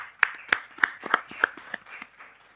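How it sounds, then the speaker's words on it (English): Scattered claps from a small audience at a birthday celebration for the 14th Dalai Lama: about eight separate, distinct hand claps at an uneven pace, fading out after a couple of seconds. "you all deserve a big round of applause for yourself"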